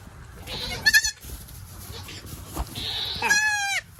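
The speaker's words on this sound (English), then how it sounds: "Let's see if we can get this baby goat out of here." Baby goat on a goat farm bleating in two bursts, a short quivering bleat early and a longer wavering one near the end, close and fairly loud with quiet farm background between.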